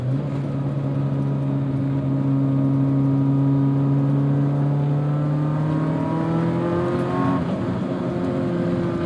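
A 1988 BMW M3 E30 engine pulls hard through a steady acceleration, its rising harmonic note loud and close for about nine seconds, with no talking over it.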